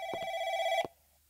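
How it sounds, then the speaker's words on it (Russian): A shop-themed video game telephone bell rings in two quick strikes followed by a sustained electronic ring that cuts off sharply, clear and alone. "Звонок."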